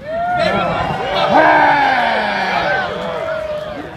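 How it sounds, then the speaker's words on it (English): Evening crowd at a Boston Massacre reenactment fills the air with dense overlapping shouts and babble, many voices close and loud throughout. "look at this menacing crowd that has gathered here this evening"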